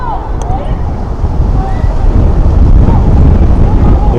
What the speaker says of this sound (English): I apologize if you're picking up any wind in the mics.